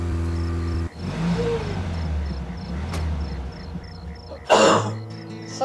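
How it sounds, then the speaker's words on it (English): Crickets chirp in a daytime park scene of the video game Deadly Premonition, a faint, regular pulsing trill that repeats steadily under game audio, with a cough or throat clearing and a burst of noise nearby. "Suddenly crickets, why?"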